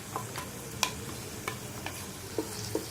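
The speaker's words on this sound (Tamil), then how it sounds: "கொஞ்சம் ஒரு அஞ்சு நிமிஷம் நல்லா வதங்கட்டும்" Ground onion, tomato, garlic and ginger paste sautéing in a pan, giving a steady, close sizzle with occasional soft scrapes of a spoon stirring.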